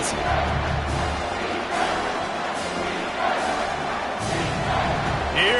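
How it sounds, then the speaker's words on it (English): Home crowd at an indoor football league game between the Iowa Barnstormers and Green Bay Blizzard roaring steadily as the defense faces third down, a dense continuous swell of voices with a few surges and thumps. "Here comes this home crowd as the defense tries to get off the field on 3rd down"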